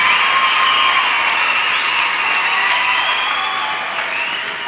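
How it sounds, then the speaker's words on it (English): A church congregation claps together in a dense, sustained wash of applause with some cheering, loud and close throughout. "Let us clap our hands beautifully. You can clap louder than that."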